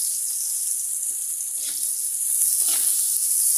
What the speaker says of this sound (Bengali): এই তেলের ভিতরে পেঁয়াজ কুচি দিয়ে দিব।